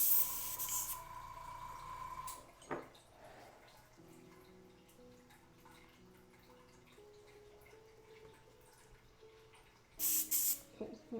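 An airbrush with its needle taken out is sprayed clean, giving short, sharp hissing bursts at the start and again near the end, with quieter rustling handling noise in between.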